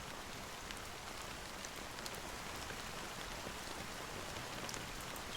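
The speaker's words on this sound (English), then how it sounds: "how long has this rain been going on for?" Rain pours in Honkai Star Rail, a dense, even hiss of drops falling steadily with no talk over it.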